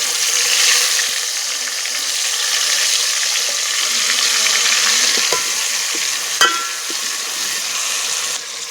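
Tomatoes and spice masala are added to hot oil with cumin in a pan on a desi stove. A bright, steady sizzle and frying hiss carries on with occasional stirring clinks, close and loud, with no talk.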